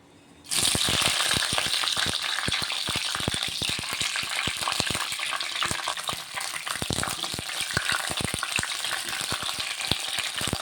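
Sliced capsicum fries in a little oil in a pan, a loud steady sizzle with dense crackling pops that starts abruptly and runs on unbroken throughout, with no voices.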